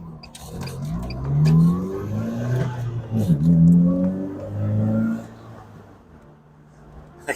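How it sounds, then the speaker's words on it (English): A 2008 Morgan 4/4 with a sports exhaust revs up, its engine note rising and falling through two swells before fading, loud and close, with no talking. "the sports exhaust on this is great. It really does sound fantastic."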